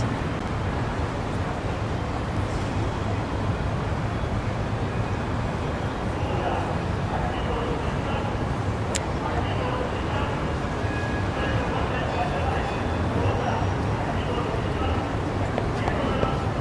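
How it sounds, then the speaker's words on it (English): Steady traffic rumble from city streets in the video game Lost Judgment, a continuous, even wash of passing vehicles with no clear individual events, moderately loud throughout. "Okay, now there's like traffic noise."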